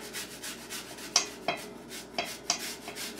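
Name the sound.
grating a jalapeno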